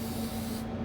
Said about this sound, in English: I'm going to give these guys another little mist